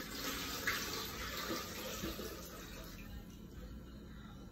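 Eight hundred millilitres of water pours into a bottle for a drink solution, a soft continuous splashing fill that tapers off near the end, with no talking.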